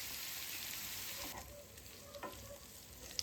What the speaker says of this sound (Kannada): ಸೊ ಇಲ್ಲಿ ಚಿಕನನ್ನು ನಾನು ಫ್ರೈ ಮಾಡ್ಕೋತಾ ಇದ್ದೀನಿ.